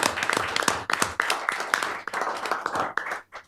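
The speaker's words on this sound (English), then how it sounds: "we should give everybody a round of applause" A round of applause at a county board of commissioners meeting, a room of people clapping steadily together at close range for several seconds, tapering off at the end.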